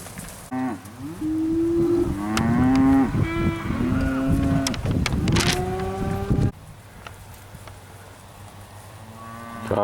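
Just-weaned steers at a Georgia cattle auction farm moo repeatedly, several loud drawn-out calls overlapping in the first six seconds before the herd quiets to a low background murmur.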